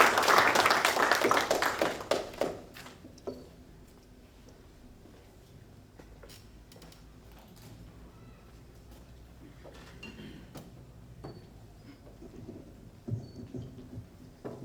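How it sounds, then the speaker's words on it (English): An audience at a hockey awards ceremony bursts into loud applause for a national team coach. The clapping dies away after about three seconds, leaving a quiet room with only a few sparse claps and small noises. "Can you just give him a round of applause?"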